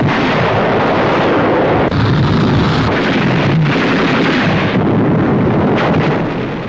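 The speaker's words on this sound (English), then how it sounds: "A dive bomber attacks a Jap position on shore, blasting it." A dive bomber attack on a shore position in WWII battle footage at Tarawa brings continuous loud, rumbling explosions and blasts, dense and roaring throughout with a few sharper bursts.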